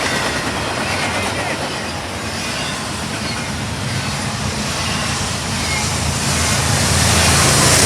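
Eastbound freight train led by a single GE Evolution locomotive rumbling past with a dense, continuous roar of wheels and rail noise that swells toward the end, close and loud.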